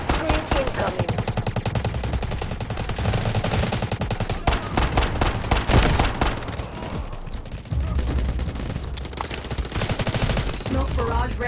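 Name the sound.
Bizon submachine gun firing in video game Delta Force Mobile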